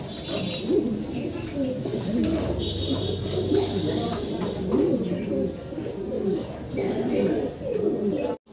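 Pigeons coo steadily in a loft of high-quality breeds such as white-and-black Danish and German Beauty Homers, their low burbling calls overlapping near the microphone, with faint background voices and chatter throughout.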